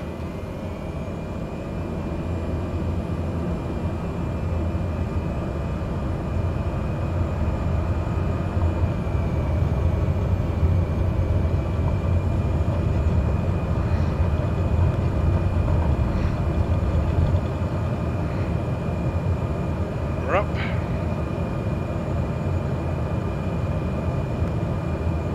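A Southwest Airlines-style airliner takeoff in a flight simulator game: a steady, loud engine roar with broadband rumble holding for the whole stretch, a few faint tonal chirps riding on top, and no talking.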